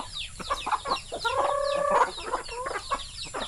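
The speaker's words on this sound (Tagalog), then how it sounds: "Ang daming manok oh!" Several chickens cluck and squawk nearby in a busy, overlapping flock, with one longer drawn-out call in the middle.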